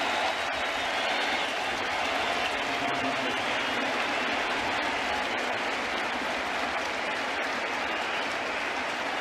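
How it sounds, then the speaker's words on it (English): A baseball stadium crowd in a Rays versus Yankees game rises in a sustained standing ovation for the pitcher, with dense, steady applause and cheering at constant loudness throughout. "And the crowd stands to give an ovation to Pineda."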